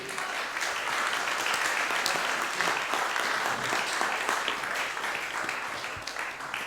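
An audience at an evening conference on artificial intelligence applauds a speaker, sustained dense clapping from many people at an even level throughout.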